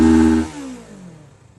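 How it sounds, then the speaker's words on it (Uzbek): A motorcycle engine in good condition, a brief loud close rumble that quickly drops away and fades as the revs die down. "Juda ham yaxshi holda motorlar ishlayapti."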